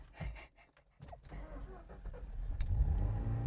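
An old Ford Escort, running for the first time in twenty years, drives along with a low engine rumble that builds steadily and grows louder toward the end, after a few brief clunks and knocks near the start.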